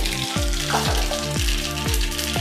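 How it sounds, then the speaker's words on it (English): Mustard seeds and cumin sizzle in hot ghee for a Maharashtrian varan dal tempering, a steady dense crackle with repeated low thumps, close and loud throughout without any talking. "the ghee is nicely hot. In this I will add some mustard seeds and the remaining jeera"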